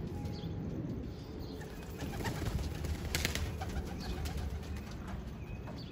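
Racing pigeons outside their loft coo and flutter close by, with occasional wing flaps over a steady, loud outdoor background noise.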